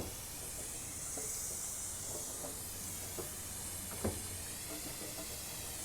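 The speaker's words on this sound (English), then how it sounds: "I got my foam sprayer here, and I'm just gonna come through and just foam it all down" A foam sprayer blankets a boat in foam with a steady, soft hiss that runs throughout, broken by a few faint clicks and knocks.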